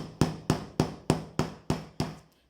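A hammer drives a nail into a sandal heel in seven sharp, evenly spaced blows, each ringing briefly and then fading, close and clear with no talking.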